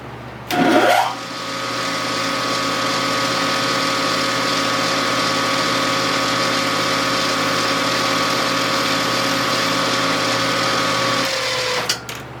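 A 120 drill bores a hole for a Kerzel pushrod guide: a steady, loud mechanical whine with a constant hum runs for about ten seconds after a brief startup, then cuts off abruptly at the end.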